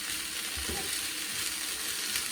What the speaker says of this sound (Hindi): साथ ही हम कैबेज भी ऐड कर लेते हैं। चलें जी, वेजिटेबल्स हमारी सौते हो गई।